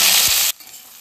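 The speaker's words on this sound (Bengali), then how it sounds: "তো এটার মধ্যে দিয়ে দেবো অল্প জিরে, একটু মৌরি, একটু কালো জিরে, তারপর দিয়ে দিচ্ছি কুমড়ো" Pumpkin pieces go into hot oil with cumin, fennel and nigella seeds, giving a loud, close crackle. It cuts off abruptly after about half a second, leaving a faint quiet hiss.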